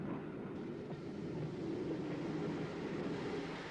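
A steady, low rumble of an L1 steam locomotive backing onto a train at Brighton Station, constant and fairly loud throughout with no voices.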